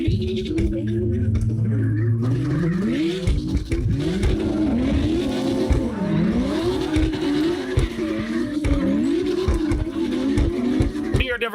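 Cars drift in CarX Drift Racing Online, engines revving hard and rising and falling continuously while tires squeal through long slides, loud and close, with a voice talking over the din.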